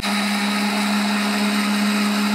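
A kitchen blender runs continuously on bananas and cocoa, a loud steady motor whine with a constant pitch and no breaks, no talking.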